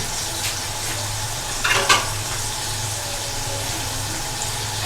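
Food frying in hot oil in a pot over a high flame, with a steady faint sizzle and hiss that runs throughout and a brief louder crackle of stirring near the middle.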